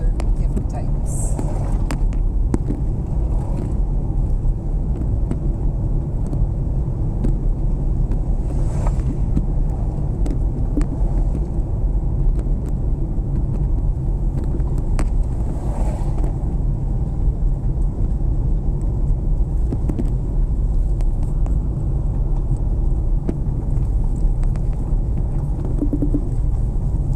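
A car drives along a road, giving a loud, steady engine and tyre rumble with wind buffeting that continues throughout.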